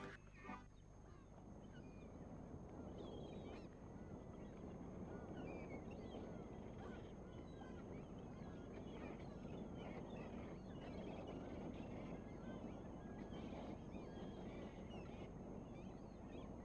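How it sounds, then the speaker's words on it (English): Seagulls calling in the PlayStation game Legend of Pocahontas, faint squawks and honks scattered over a low steady wash of sea and ship ambience. "Seagulls! I have seen seagulls."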